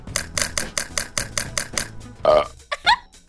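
A small dog burps after eating: a run of short rhythmic gulping pulses ends in one loud, close burp, followed by a brief voice.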